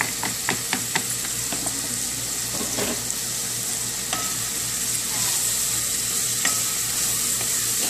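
Lemongrass beef with green onions stir-fries in a hot pan for Vietnamese vermicelli noodles. A loud, continuous close sizzle is punctuated by light scraping clicks of stirring.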